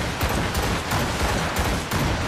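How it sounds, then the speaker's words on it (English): A volley of gunfire rings out in an Assassin's Creed Rogue naval cutscene, with dense, overlapping shots crackling continuously and loudly, sharper bursts punctuating the din every half second or so. "They're firing a volley!"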